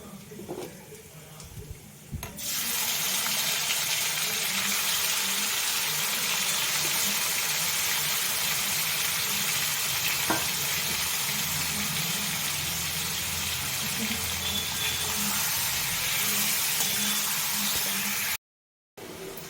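Chicken dropped into a hot pan already frying whole coriander and cumin bursts into a loud, steady hiss that begins abruptly and holds for many seconds, broad and close, with a brief gap near the end.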